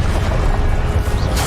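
Confringo and Incendio spell blasts in Hogwarts Legacy roar out as a loud, continuous booming, fiery rush with no gaps between them.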